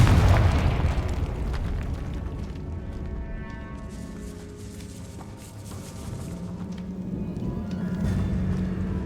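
A fire spell explosion in the video game Hogwarts Legacy bursts with a deep boom at the start, followed by a crackling rumbling tail and low game ambience.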